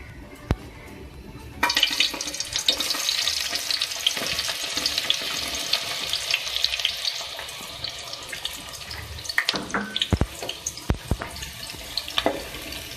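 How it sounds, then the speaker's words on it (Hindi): Onions dropped into hot oil for beef aloo gosht burst into a loud, dense sizzle after a quiet start, frying steadily with clattering stirs and knocks toward the end. "अब मैं इसमें डालूंगी प्याज"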